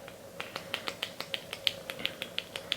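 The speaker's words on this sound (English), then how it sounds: "you might be able to hear, this is not the typical clicking sound." A Sephora Melting Lip Click lipstick is clicked up repeatedly, giving a rapid, evenly spaced series of about fifteen crisp, close, sharp clicks over faint background hiss.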